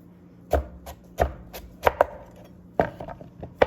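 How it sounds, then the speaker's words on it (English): A knife chopping through butternut squash on a cutting board, with a series of sharp, close knocks in an irregular rhythm: single cuts and quick pairs, with no talking. "I'm gonna put it on the flat side and cut in this direction."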